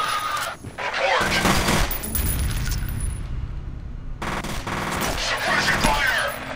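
Rapid automatic gunfire in the video game F.E.A.R., loud sustained bursts of shots with a brief lull in the middle, overlapping other game sounds and voices.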